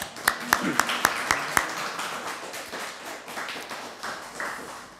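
A brief burst of hand clapping from a church congregation during a Sunday worship service, several sharp claps in quick succession, fading into a murmur of voices.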